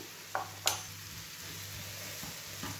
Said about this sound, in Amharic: ከዛም ድንቻችንን ቆንጆ ሆኖ ዳር ላይ ተጠብሶልናል ማለት ነው።